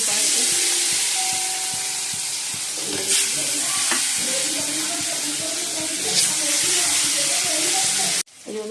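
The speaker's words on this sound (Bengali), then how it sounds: "এই জন্য আলুগুলো ভেজে নিচ্ছি" Potatoes sizzle steadily in a frying pan for a Bengali home-cooked meal, with stirring clatters and a continuous hiss throughout, ending abruptly near the close.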